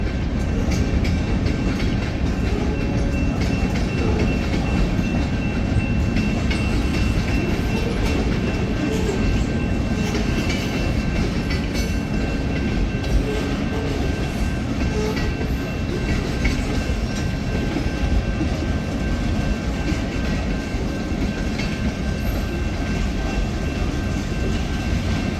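Three locomotives haul a mile-long freight train up a grade, producing a loud, continuous roar of engines and rumbling cars with steady clattering wheels that runs unbroken from start to finish.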